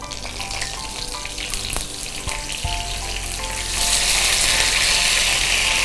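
Curry leaves hit hot coconut oil in a heated wok, a sharp sizzle that builds and turns into a loud, dense spitting crackle in the second half, close up.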